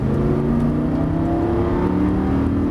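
Lamborghini Gallardo LP560-4 accelerating out of a corner at the Circuit de l'Ouest Parisien track: a loud, continuous engine roar with rising harmonic tones, heard steadily throughout without talk.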